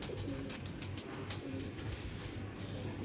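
Soft, low pigeon coos repeat in a steady rhythm over a constant background hiss, with no talking.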